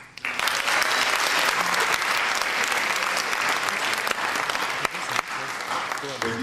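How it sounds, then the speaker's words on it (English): An audience bursts into sustained, dense applause at a Mr. Wildcat charity pageant, loud and close, with a few cheers mixed in for several seconds before it starts to thin out. "I think a round of applause is in order."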